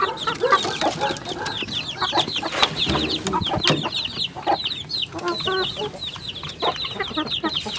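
Pet chickens cluck busily while being fed, many close birds chattering in overlapping short calls with pecking and scuffling, steady and fairly loud throughout.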